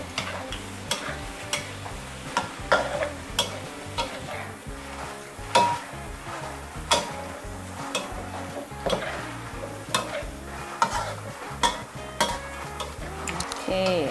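Garlic frying in hot oil in a pan over lowered heat for Thai khanom chin nam ya, a steady sizzle with frequent scrapes and clinks of a utensil stirring against the pan.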